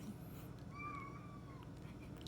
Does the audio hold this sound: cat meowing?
yes